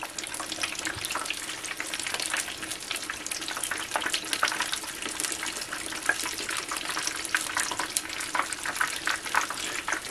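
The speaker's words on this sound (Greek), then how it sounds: "Αφήνουμε τώρα να τηγανιστούν, μην βάλετε πάνω από 3 κομμάτια," Pieces of battered cod fry in a pan of oil, giving a continuous close sizzle full of fine crackles and spitting pops. The sound stays steady for about ten seconds, with no voices.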